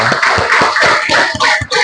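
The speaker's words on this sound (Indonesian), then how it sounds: "Oke, tepuk tangan buat Gian dan Ajril." Brief rhythmic clapping from a small group of students in a class, loud and close, steady in pace for a couple of seconds.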